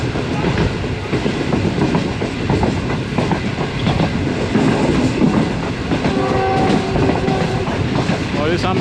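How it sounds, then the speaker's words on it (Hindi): Riding aboard the Awam Express passenger train from Peshawar to Rawalpindi as it passes through Burhan railway station: loud continuous rumble and clickety-clack of wheels over rail joints, a horn sounding near the end, with faint talk underneath. "ट्रेन हमारी इस वक्त बुरहान रेलवे स्टेशन से पास थ्रू करने लगी है"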